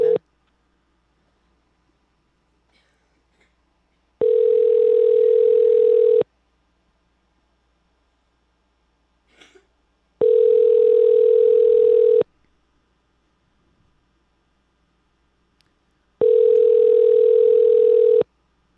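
Telephone dial tone sounding while calling someone back, three steady two-second tones spaced evenly apart, clear and loud with near silence between them and no talking.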